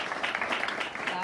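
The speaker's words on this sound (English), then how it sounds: "Let's give them one more round of applause." A networking event audience briefly applauds a discussion panel, a short burst of dense clapping at moderate volume.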